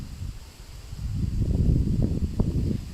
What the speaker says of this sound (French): on entend le vent se lever